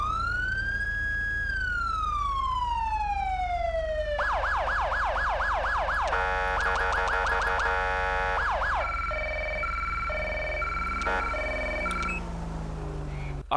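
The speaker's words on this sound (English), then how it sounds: "you now have a brand new siren for your police cars here for LSPDFR" A custom police siren on a Sheriff SUV in the LSPDFR mod for GTA V wails loudly and continuously, then shifts through several tones: rising and falling, rapid yelp, warbling pulses and a high-low pattern.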